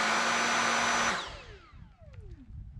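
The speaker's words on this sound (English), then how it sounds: "hit the trigger, and the beater head works" Dyson SV07 cordless vacuum with its beater head runs with a loud, close, high whir for about a second, then powers down in a falling whine that fades into quiet handling noise, with no voices.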